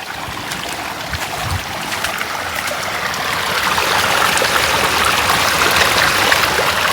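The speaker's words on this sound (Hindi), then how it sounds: "पानी का जो बहाव है ना वो बहुत तेज़ है, पहले से भी ज़्यादा तेज़ है" Fast-flowing rainwater rushes in a village stream during heavy rain, a loud, continuous broadband roar that swells slightly over the stretch, with no voices.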